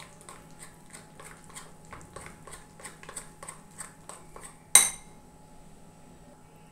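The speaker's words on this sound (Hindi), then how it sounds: "यहाँ पे हम टेस्ट के अकॉर्डिंग इसमें थोड़ा सा नमक डाल देंगे, थोड़ा सा धनिया पाउडर और थोड़ा सा गरम मसाला, और इनको अच्छी तरह से हम मिक्स कर लेंगे" Close, fairly quiet spoon clinks and scrapes in a rhythmic run while moong dal is mixed with salt, coriander powder and garam masala, ending in one sharper metallic knock, no talk.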